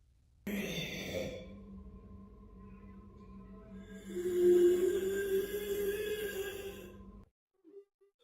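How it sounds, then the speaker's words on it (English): Creepy breathing and moaning in an eerie recording: a long sighing breath, then a drawn-out low moan that swells and holds before cutting off abruptly, with nothing else around it. "Francesco recorded some creepy sounds like breathing and moaning"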